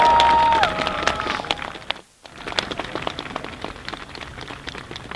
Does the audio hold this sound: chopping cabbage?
no